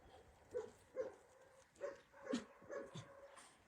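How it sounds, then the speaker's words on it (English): Shy shelter puppies whimper and give soft yelping barks in a string of about six short, close cries spaced through a quiet pen, with no talking. "The shy puppies. I still call them shy."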